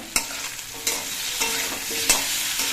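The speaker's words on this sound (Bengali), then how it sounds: "এবার নুন হলুদ মিশিয়ে নিয়ে আমটা কিছুক্ষণ ভেজে নিতে হবে" Mango pieces fry with salt and turmeric for a fish mango kasundi dish, a close steady sizzle punctuated by about four sharp stirring scrapes against the pan.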